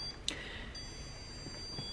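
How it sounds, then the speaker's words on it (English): A Lowe's stud finder, a $20 tool used to locate 2x4 studs behind a wall, gives one short, sharp high-pitched beep against a quiet room background. "it will beep and tell you where the 2x4s are in the wall"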